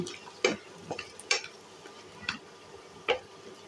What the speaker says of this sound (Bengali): কুমড়া বড়িগুলো ব্রাউন কালার করে ভেজে নিব।